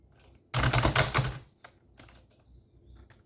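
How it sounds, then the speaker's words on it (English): A loud burst of fast keyboard typing lasts about a second, followed by a few quieter, scattered key clicks. "that typing is probably pretty loud"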